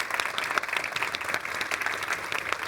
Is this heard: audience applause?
yes